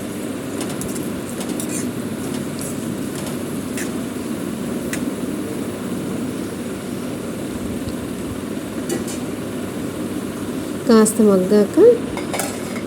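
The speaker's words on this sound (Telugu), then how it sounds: "ఆయిల్ వేడయ్యాక మనం ముందుగా కట్ చేసి పెట్టుకున్న ఉల్లిపాయ ముక్కల్ని వేసుకోవాలి. మొత్తం వేసుకొని ఒక 2-3 సార్లు కలిపి మూత పెట్టుకోవాలి." Chopped onions frying in hot oil, a constant close sizzle with occasional spoon scrapes, and a few louder clanks near the end as they are stirred; a brief word is spoken.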